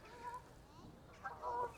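Geese honk in a park, faint and somewhat distant, with two short nasal calls in a quiet outdoor setting.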